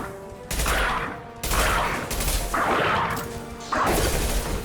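Four loud, harsh bursts of rapid gunfire in the video game Mass Effect 2, each about a second long with crashing impacts, separated by short gaps.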